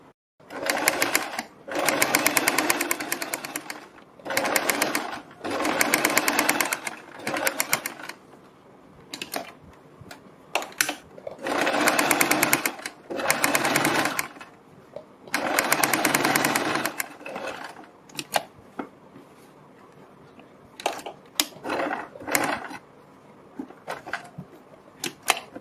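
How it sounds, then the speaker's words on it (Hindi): Sewing machine stitching a boat neck blouse, running in repeated short whirring bursts separated by brief pauses and clicks, close and fairly loud, with little talk. "और अब हम यहाँ पर एक सिलाई लगाएंगे।"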